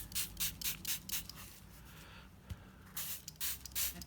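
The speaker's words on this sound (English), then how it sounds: "I'm then going to spray it again with some more water to try and encourage those inks" Water from a spray bottle misted onto a page of a handmade Halloween journal to make inks run, a series of short hissing squirts in two bursts separated by a brief pause.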